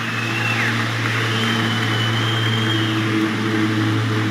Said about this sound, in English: wait for that plane.